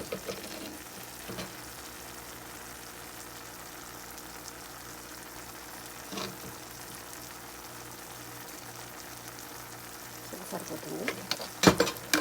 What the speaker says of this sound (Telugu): ఈ మసాలా కూడా ఆయిల్లో మంచిగా కలగాలి చూస్తున్నారా